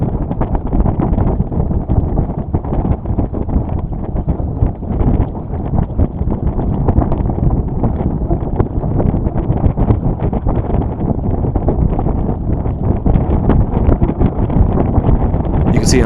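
Gusty wind buffets the microphone aboard a sailboat, a loud, continuous low roar that rises and falls without a break, with the hull and water faintly mixed in and no speech.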